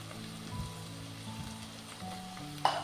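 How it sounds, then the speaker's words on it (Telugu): Chopped onion and tomato with salt and turmeric fry in a pan, giving a soft, steady sizzle with faint stirring and one brief clink near the end. "ఈ ఉల్లిపాయ టమాటా బాగా పచ్చివాసన పోయేంత వరకు దీన్ని ఇలాగా ఫ్రై చేసుకుందాం"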